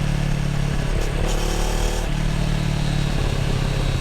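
A 2022 CFMoto CL-X 700 Heritage motorcycle engine pulls hard under steady acceleration, a loud continuous droning hum close by with wind roar and no talking.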